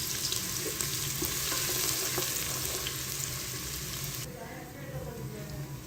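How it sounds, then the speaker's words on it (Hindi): Sliced onion frying in hot oil inside a pressure cooker gives a steady, close crackling sizzle that runs unbroken throughout. "यहाँ पर हम प्याज को फ्राई कर लेंगे।"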